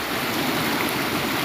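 Water in a stream on a farm flows with a constant, even rushing hiss, close and fairly loud, with no talk over it.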